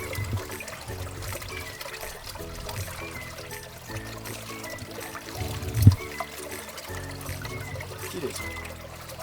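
Water runs and trickles steadily while freshly picked radishes are rinsed by hand outdoors on a chilly morning, with a brief thump partway through.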